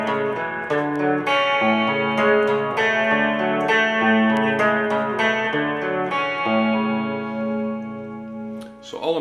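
Guitar picks through the opening measure of a song, arpeggiated chord notes ringing over one another in a steady, close, moderately loud passage that fades slightly near the end, with no voice over it.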